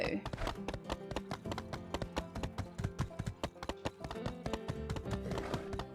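Horse hooves clip-clop in the My Time at Sandrock video game, a rapid, regular train of sharp, close hoofbeats over a low background, with a person talking over it.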